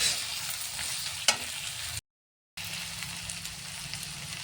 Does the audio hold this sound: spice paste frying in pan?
yes